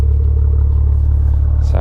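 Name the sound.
car exhaust louder in sport mode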